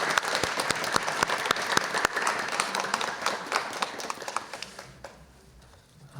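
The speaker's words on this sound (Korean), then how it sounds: "우리 큰 박수로 축하해 주겠습니다." Warm applause from a church congregation during a Sunday morning worship service, brisk clapping with distinct sharp claps that thins out and fades toward the end.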